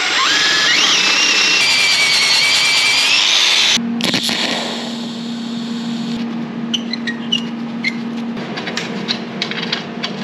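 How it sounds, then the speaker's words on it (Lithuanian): Motorcycle with a carburettor and a lambda sensor fitted in the exhaust, engine idling as it warms up: a steady loud running drone throughout, with a sharper revving tone in the first few seconds and a constant low hum afterward. "Lambda pajungta, reikia dabar šildytis motociklą."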